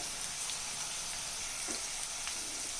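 Ginger and garlic fry with salt in an iron pan for lemon pickle, producing a steady, even hiss of sizzling oil with faint occasional crackles and no voices.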